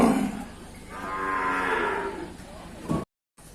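A single long, loud moo from cattle at a Thai livestock market, close by, rising and fading over about two seconds against background murmur.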